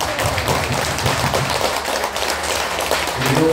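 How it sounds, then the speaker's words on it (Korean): A group claps warmly at a health talk, producing a dense, fairly loud patter of overlapping hand claps with some heavier taps that continues evenly throughout. "자기 자신을 위해서 따뜻하게 박수 한번 부탁드립니다."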